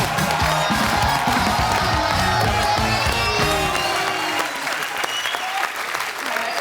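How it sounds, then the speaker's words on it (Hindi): Studio audience at a Hindi comedy talk show breaking into loud applause and cheering to welcome a guest, dense clapping that tapers off toward the end. "तो एक बार जोरदार तालियों से स्वागत हो जाए"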